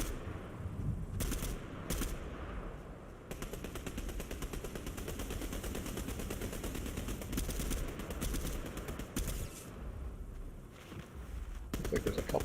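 Gunfire from a video game firefight as two teams battle in the distance, with a dense stream of shots and bursts running steadily through the whole stretch, fairly loud and continuous with no clear gaps.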